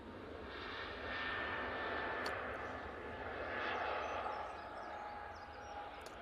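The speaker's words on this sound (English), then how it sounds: "as we see this departure, it's an Easyjet off to Gibraltar" An Easyjet Airbus A320neo departing Manchester Airport for Gibraltar roars as a broad, steady distant engine rumble that swells slightly and then holds.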